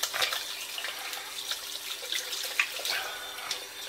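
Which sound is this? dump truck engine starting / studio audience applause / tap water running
tap water running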